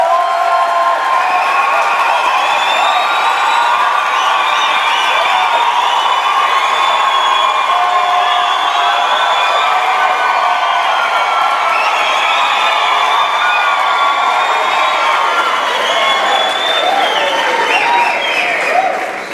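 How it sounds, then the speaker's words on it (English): Sustained applause and cheering for postgraduates at a university graduation ceremony, a loud, continuous wash of clapping with whoops and shouts rising above it throughout. "And so I think they really deserve another round of applause."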